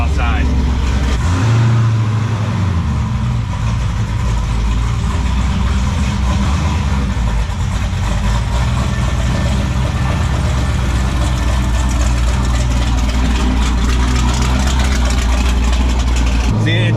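Twin-turbo LSX-swapped Cadillac Escalade idling at about 860 rpm, a steady close low rumble throughout, with a brief heavier surge near the start.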